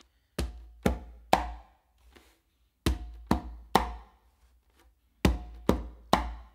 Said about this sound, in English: what we're gonna do is a bass finger and then a close slap